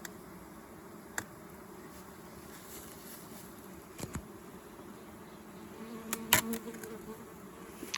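Russian honey bees swarm around an opened nuc hive in a steady, dense buzzing hum with a few louder individual passes close by, plus faint clicks and knocks near the end and no speech.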